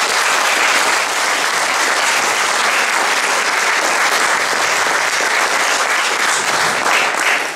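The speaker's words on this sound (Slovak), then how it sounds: "Takže ešte raz poprosím obrovský potlesk pre vaše detičky." An audience of parents gives sustained, loud applause for first-grade pupils at a school end-of-year ceremony, a dense, even wash of clapping from a full room lasting throughout.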